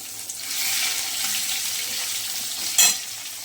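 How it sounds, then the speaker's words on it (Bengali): Continuous bright sizzle of onions frying in oil, close and steady, with a single sharp clink near the end. "একটু পেঁয়াজ ভেজে আমি তুলে রাখবো"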